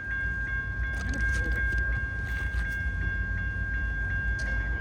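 A train rolls past at Hope Street, a loud, continuous rumble with a steady high tone and scattered clanks and rattles from the cars, with no voices.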